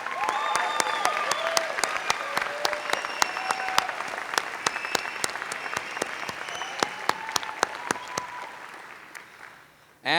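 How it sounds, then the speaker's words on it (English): An audience at a 2006 juggling award show claps for the honorable mentions, a dense, lively round of applause with crisp close claps and a few whoops, fading toward the end. "Our 2 honorable mentions that must be recognized and given a special round of applause are Masaki Hirano, our 3-ball juggler,"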